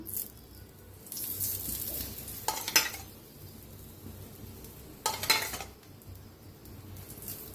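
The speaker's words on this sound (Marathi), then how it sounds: "तर दोन्ही साईडने छान असा तव भाजून घ्यायचा क्रिस्पी होऊस तर" An aloo paratha roasts with oil on a hot tawa. A soft sizzle runs throughout, with two louder bursts of scraping and flipping and faint utensil clinks in between.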